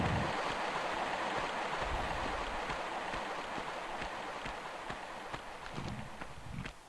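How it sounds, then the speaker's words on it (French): Flowing water in the Tomb Raider video game, a constant bright rushing and splashing stream that stays loud throughout, with scattered soft taps and thuds over it. "le bruit de l'eau ça fait vachement de bruit"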